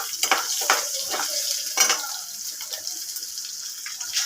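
Whole cumin seeds and a bay leaf hit hot oil, giving a bright crackling sizzle with scattered pops and the scrape of stirring.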